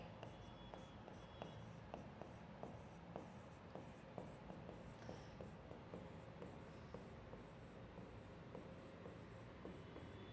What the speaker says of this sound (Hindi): तो ये पॉइंट लिखेंगे हम लोग यहाँ पे